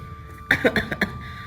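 An elderly woman coughing in an inner room, a short burst of four or five harsh coughs in quick succession, fairly close against a quiet background.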